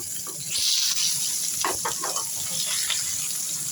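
Koi fish from a Bikrampur wetland frying in hot oil, a steady broadband sizzle with brief crackles and faint stirring sounds, no talking.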